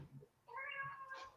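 A pet cat meows nearby, one drawn-out, rising meow with a softer tail, quiet and alone.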